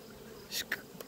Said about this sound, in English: there's still a lot of bees in this colony here